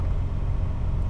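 An automatic car driven hard through a snowy drift course at a winter event in Edmonton, giving a short burst of deep, rumbling engine noise.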